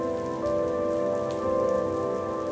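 Steady rain falls on a surface with a constant patter of drops, with no voice over it.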